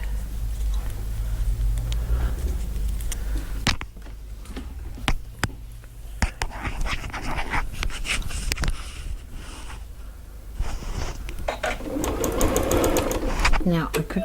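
A sewing machine stitches a fabric project bag in steady mechanical whirring runs with ticking, pausing and restarting, close by, while a person talks over parts of it.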